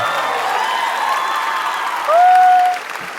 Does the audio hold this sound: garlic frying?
no